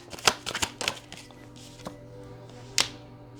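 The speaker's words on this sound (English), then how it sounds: "I'm just going to pull cards to clarify." Tarot cards are shuffled and riffled in several quick, close bursts of crisp slapping and flicking. A pause follows, then one last sharp snap as the deck is tapped together.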